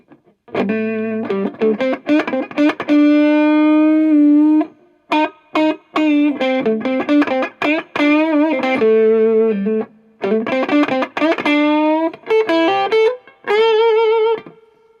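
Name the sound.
electric guitar through overdrive pedal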